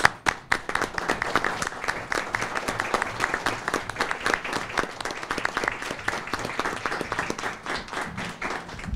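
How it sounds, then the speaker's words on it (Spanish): Applause at a university chair's agreement-signing ceremony, with distinct individual claps audible in an irregular, lively patter from a modest audience, steady for the full length with no talking. "Firmados pues los convenios, les agradecemos y les pedimos un aplauso"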